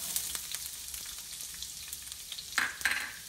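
Chopped onions sizzle and crackle in hot oil in a pan for fried rice, a steady frying hiss with a few louder pops and stirring scrapes near the end, no voices.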